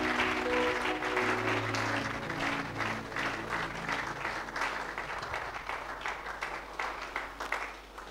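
A church congregation applauds steadily through a worship service, dense clapping filling the space at a fairly even level while tonal music or a sustained voice lingers underneath.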